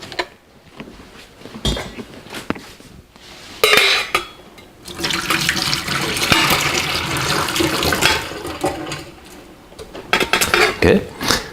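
Boiled potatoes drained from a pot in a kitchen, with water gushing and splashing and a few sharp metallic clanks of the pot, while a voice talks now and then.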